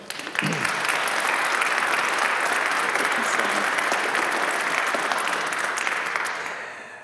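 An audience breaks into loud, sustained applause welcoming a speaker to the stage, a dense even clapping that starts abruptly and fades slightly near the end.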